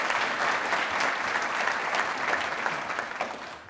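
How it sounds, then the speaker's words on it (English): Audience applause following the introduction of a Republican congressional nominee and his wife at a Mississippi State University event, a dense sustained clapping from a large crowd that stays steady and fades slightly toward the end. "Please give them a round of applause."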